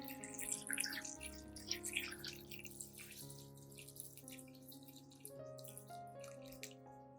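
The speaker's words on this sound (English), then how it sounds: "pour water until the pebbles are fully submerged." Water trickles and drips steadily over hard pebbles in a basin, a soft splashing patter with a faint tonal hum underneath, fairly quiet and close.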